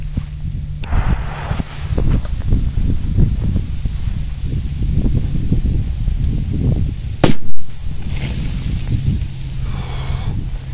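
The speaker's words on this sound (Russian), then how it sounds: "Четко взрывается." Homemade triangle-shaped firecracker set off outdoors, a sharp single loud bang after a stretch of rustling and handling noise, followed by a brief fading hiss.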